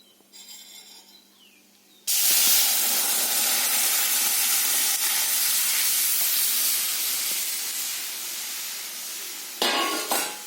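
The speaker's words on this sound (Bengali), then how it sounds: "ডালটাকে ঢেলে দেবো আস্তে করে" Dal poured slowly into a hot pan of mustard-seed tempering, bursting into a loud sustained hiss and sizzle that gradually eases, with a fresh flare of sizzling near the end.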